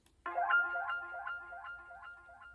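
One-shot melodic accent sample for a bouncy beat, a single bright synth-like tonal hit with shimmering repeated pulses that decay over a couple of seconds, alone and clear.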